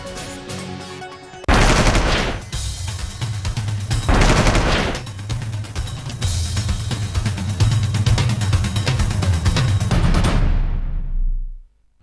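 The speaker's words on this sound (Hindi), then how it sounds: "इंटरनेशनल बॉर्डर पर बहुत ज्यादा फायरिंग हुई" Heavy cross-border gunfire in Jammu and Kashmir, with sustained bursts of automatic weapons fire and dense rapid shots rolling almost continuously before cutting off abruptly.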